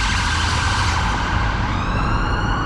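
Emergency sirens from ambulances and fire engines wail continuously on a busy street in Brixton, London, their rising and falling tones loud and steady over dense traffic rumble.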